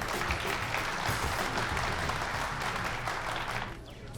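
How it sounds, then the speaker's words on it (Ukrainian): Steady applause from a theatre audience greeting a performer being introduced on stage, a dense, even wash of clapping that tapers off slightly at the end. "Ваші оплески!"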